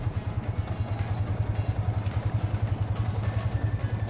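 A manual-clutch motorcycle engine idles with a steady low, pulsing putter and faint mechanical clatter, holding a fairly even rhythm throughout as the clutch is slowly released to pull away.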